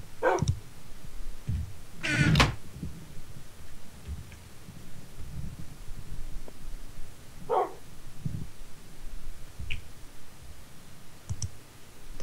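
A dog in the Minecraft video game gives a few sharp, brief barks and yips spaced several seconds apart over a steady low background, mixed with faint clicking and no talking.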